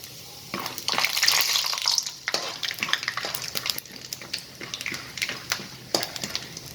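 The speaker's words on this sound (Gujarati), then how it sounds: "તેલ ગરમ થઈ ગયું છે. પહેલાં આપણે સિંગદાણા નાખીશું." Peanuts tipped into hot oil in a pan for vegetable upma, giving a steady crackling sizzle with sharp pops and spits, loudest early on and continuing close by without talk.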